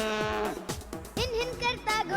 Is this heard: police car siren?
no